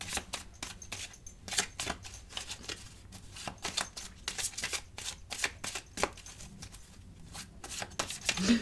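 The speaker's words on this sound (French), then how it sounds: "Carte oracle, donc, de ce petit jeu. Tout beau, mais très difficile à mélanger" Oracle cards from a small, hard-to-shuffle deck by Toni Carmine Salerno being shuffled, a steady run of quick riffling card flutters and soft slaps, close and alone.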